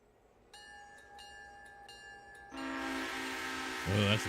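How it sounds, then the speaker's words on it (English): A big passenger train approaches a crossing: a clanging bell rings repeatedly, then a loud, steady rumble of rail cars takes over and builds, with a brief voice near the end. "Oh, that's a big passenger train right there."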